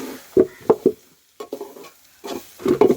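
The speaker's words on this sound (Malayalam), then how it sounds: "അപ്പോൾ ഇത് കുറച്ച് നേരം ഇങ്ങനെ ഇളക്കിക്കൊണ്ടിരിക്കണം" Chutney ingredients stirred in a pan, a few close scraping and knocking strokes in short clusters separated by quiet gaps, with little sizzle.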